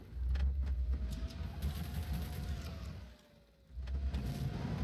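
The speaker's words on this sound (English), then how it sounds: "Oh, they brought a truck!" A truck engine rumbles in a shooter video game, a steady low drone with a faint rising whine, dipping briefly before surging again.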